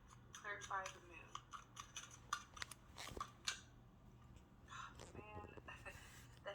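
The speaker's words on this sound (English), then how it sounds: "Let me shuffle better so we can get more specific cards to come out" A deck of tarot cards is shuffled nearby in quiet, papery bursts of flicks and riffles, with sharper taps scattered between them, while a voice talks softly at times.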